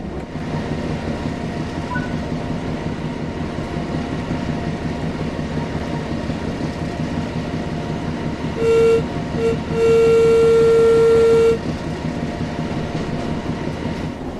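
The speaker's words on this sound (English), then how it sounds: "With the locomotive now moving, it's possible to apply more power and focus on achieving the desired speed." A locomotive running on the West Coast Main Line over Shap in Train Sim World 5, with a steady loud rolling rumble and rail clatter throughout and a sustained horn blast near the end.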